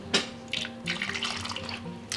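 Liquid poured through a funnel into a fermenting jar of vegetables, a gurgling, splashy trickle that comes in a few uneven bursts over a couple of seconds, close and fairly clear.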